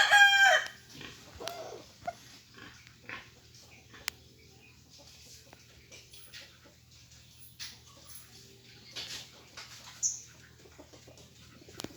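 A rooster, sire of a brood of chicks, gives one loud, close crow at the start, followed by scattered soft clucks and small fowl sounds over a low steady hum.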